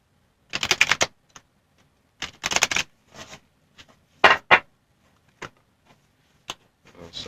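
Spellcaster's Tarot cards being shuffled in several short, crisp bursts of riffling separated by brief pauses, close and fairly quiet against a silent background.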